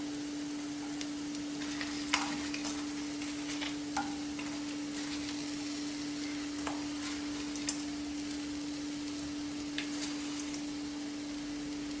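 Tender grated coconut sizzles gently in a pan while a spatula scrapes and stirs at intervals, a steady close frying hiss with a faint constant hum underneath.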